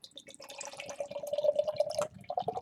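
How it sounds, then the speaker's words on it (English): A can of Pontoon Brewing Down With The Thickness, a very thick, dark beer, is poured into a glass: a steady gurgling stream of liquid rising in pitch as it fills, then spattering drips near the end. No talking. "Let's go ahead and crack it open, give it a pour"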